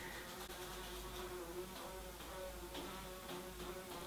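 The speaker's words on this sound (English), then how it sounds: "Okay, it's a bumblebee." A bumblebee buzzes steadily indoors in a continuous low drone that stays close and even throughout. No one speaks.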